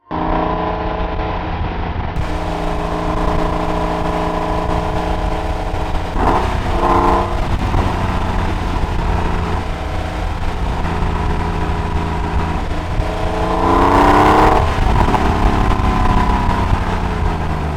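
Porsche 993 Carrera 4S with a ceramic-coated black Pfister Stage 2 exhaust idling close by with a deep, steady engine drone, briefly revved twice, the second blip louder and longer, then settling back to idle.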